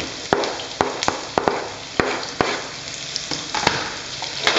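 Onions sizzle and fry in a pan with garlic for a chicken curry, a steady close crackle broken by sharp clacks and scrapes of stirring, with no talking.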